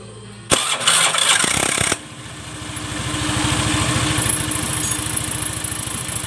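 A Honda Scoopy FI scooter with delayed throttle response and heavy, sluggish acceleration cranks over briefly with the starter, then catches and settles into a steady, close idle.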